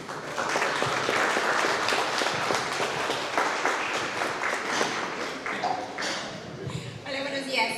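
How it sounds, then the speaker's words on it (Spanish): Audience applause at a technical talk marking an anniversary event, a dense, steady burst of clapping lasting several seconds and thinning slightly toward the end, with voices mixed in. "Un aplauso,"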